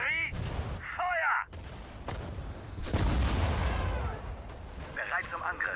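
Artillery fire in the WWII strategy game Sudden Strike 4: several heavy booming cannon shots with rolling blasts, interleaved with short German voice commands from units, loud and close in the battle mix.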